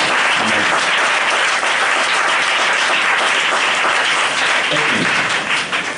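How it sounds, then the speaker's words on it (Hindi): A church congregation claps loudly to thank God during a Hindi Christian service. The applause is dense, continuous and full-room, filling the whole stretch without a break. "ताली बजाकर परमेश्वर को धन्यवाद।"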